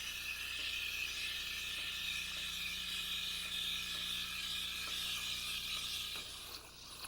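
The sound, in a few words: steaming milk in a pitcher with espresso machine steamer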